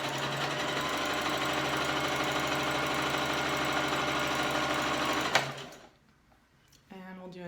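A sewing machine runs steadily and loudly while chain piecing cloth masks, then stops abruptly and goes quiet before a short voiced sound near the end.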